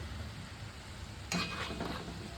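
Onion pakoras (kanda bhaje) fry in hot oil as a second batch goes in. A quiet bubbling sizzle jumps to a brief, brighter crackle partway through when the battered onion drops into the pan, then settles back to a soft fry.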